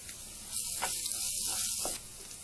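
Ginger garlic paste with coriander-cumin powder sizzling hard in hot oil in a pan, a loud close hiss that swells for about a second and a half, then eases back to a softer frying sound.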